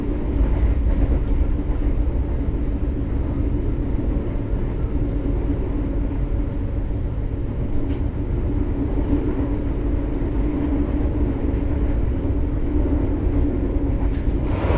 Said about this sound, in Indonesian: naik kereta api Argo Lawu baik di kelas luxury maupun di kelas eksekutif